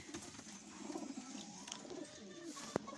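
Pigeons coo softly inside a loft with closed boxes, several low murmuring calls overlapping at close range over quiet background noise, with one sharp brief click near the end.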